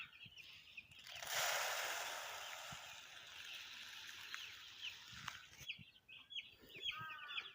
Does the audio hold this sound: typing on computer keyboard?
no